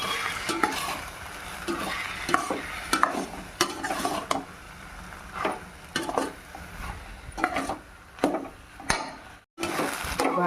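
Ridge gourd rice being stirred in a pan over a low flame, with a spoon scraping and clinking against the metal in repeated strokes over a soft sizzle, and a brief pause near the end.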